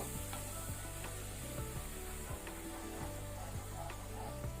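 Onion paste frying on a medium flame for paneer butter masala, a dense, steady sizzle with repeated scraping strokes of a spoon stirring through the pan. Loud and continuous, with no voices.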